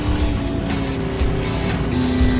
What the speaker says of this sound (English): Oh, she's revving it.